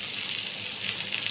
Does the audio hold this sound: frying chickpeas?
yes